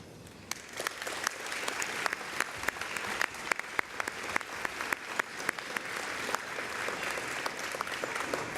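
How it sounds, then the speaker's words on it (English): Luncheon audience applauding for an award recipient, steady sustained clapping from a full room with some individual claps standing out, continuing throughout at moderate volume. "Will you please join me in a round of applause for this year's recipient, Ms. Lucinda S. Lavelli."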